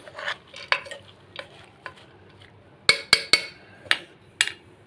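A spoon stirs chilli powder and turmeric into a pot of drumstick-leaf dal, giving a run of scraping strokes and metal clinks, several sharp, close knocks against the pot near the middle, with no talking.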